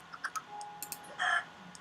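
Minecraft chickens give short clucks and clicks in the blocky survival game, a few sparse bursts close by with no voices over them.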